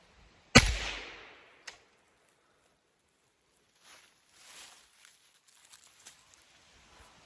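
A single sharp report from a suppressed AK rifle fitted with an RRD key mount cracks out close and loud, a fainter echo or second pop follows a second later, then only light scattered sounds in quiet.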